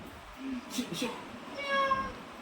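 A cat meows close by, a short whining cry late in the moment following some faint soft sounds, with quiet background noise around it.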